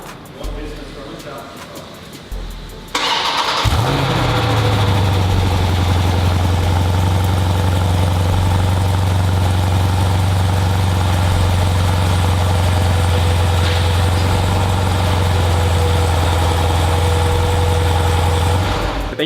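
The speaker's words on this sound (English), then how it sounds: "Let's start it up because these do have remote starts on them." A 2018 Jeep Grand Cherokee SRT is remote-started: a few seconds of quiet outdoor background, then the engine cranks and fires, settling into a loud, steady, deep idle that runs to the end.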